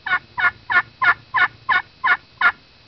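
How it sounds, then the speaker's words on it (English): Eight evenly spaced turkey yelps made on a friction call, crisp and close, repeating in a steady rhythm with no talking. "the yelp is a very easy call to make"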